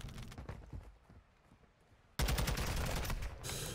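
Rapid gunfire bursts in a Call of Duty esports match, loud and dense from midway on after quieter scattered shots at the start.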